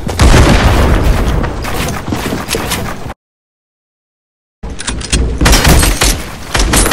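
A cannon fires in a video game, heavy booming blasts and crashing impacts filling the sound, loud and dense, with a sudden gap of silence before the noise resumes.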